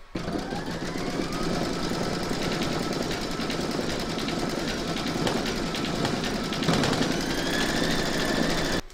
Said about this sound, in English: Load whichever colour you want for the quilting into your machine, and then you're going to stitch round number 7